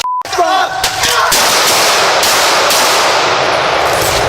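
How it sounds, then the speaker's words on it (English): Gunshots during a police incident involving a knife-wielding man, a rapid loud burst of sharp shots at close range followed by dense, harsh, clipped noise and commotion. "Shots fired!"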